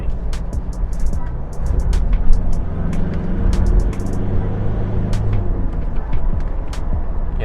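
Manual-transmission car engine revving steadily through gear changes while overtaking, with a continuous close rumble of engine and road noise plus occasional sharp higher clicks and ticks over it.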